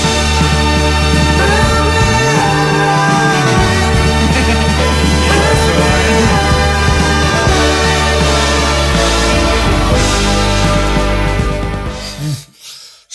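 Closing section of a song, a big building horn part over full band and deep bass, loud and sustained before fading and dropping out in the last second.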